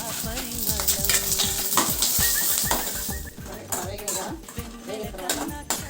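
Dried red chillies, coriander seeds, mustard seeds, fenugreek and asafoetida frying in a pan for tomato chutney, with loud busy sizzling and repeated scraping and clinking of a spoon stirring against the metal, no voice.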